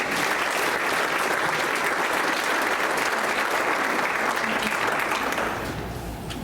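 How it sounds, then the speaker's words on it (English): Strong, continuous applause from a conference audience as a presenter is welcomed to the stage, a thick wash of many hands clapping at full volume that fades a little in the final second. "So please give Wade a big round of applause as he comes on up"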